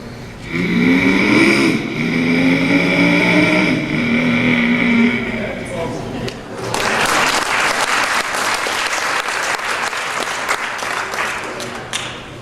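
A voice mimics a Shelby GT500 car engine with a deep, rumbling rev that climbs and wavers for about five seconds, then loud audience clapping and cheering take over.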